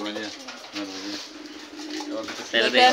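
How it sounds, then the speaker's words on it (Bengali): A pigeon coos in close, low repeated rounded calls, while a person talks over and between the coos. "একটা কবুতর"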